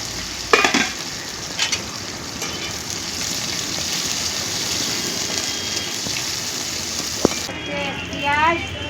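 Onion and garlic sizzle in hot oil along with black cumin and green chillies, a steady loud frying hiss broken by a few stirring clatters, with a brief voice near the end.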